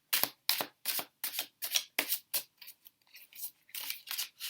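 Tarot cards shuffled by hand, giving a run of crisp, rapid riffling bursts in a steady rhythm, close and fairly quiet, with no talking.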